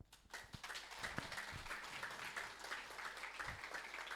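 Audience applause fills the hall after a presentation, a steady wash of many hands clapping at moderate volume throughout, with no speech over it.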